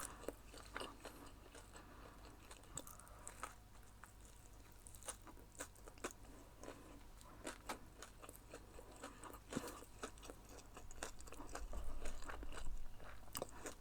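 McDonald's burgers with gherkins being chewed: soft, steady crunching and wet munching close to the mic, fairly quiet and without speech, repeating in irregular bites.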